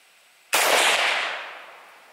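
A single 7.62x39 round fired from an AK-47 strikes a cinder block wall outdoors, giving one sudden loud crack that rings out and decays over about a second and a half.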